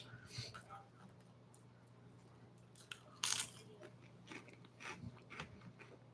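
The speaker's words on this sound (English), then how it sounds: "Me chewing on Doritos." Crunchy bites and chewing on Doritos tortilla chips, a few close crisp crunches over a steady low hum, with one sharper louder crunch in the middle.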